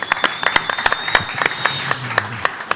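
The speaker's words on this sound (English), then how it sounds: "I would say 1 round of applause for DappNode." Audience applause at the DappCon 2024 conference for DappNode, heard as a burst of sharp, closely spaced hand claps from a crowd, steady across the moment, with a faint voice near the end.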